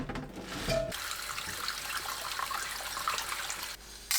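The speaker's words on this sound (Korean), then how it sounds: "깨끗하게 씻어주세요" Tap water runs steadily while halved bok choy is washed under it, a continuous splashing rush with brief breaks and changes in the flow as the leaves are moved around.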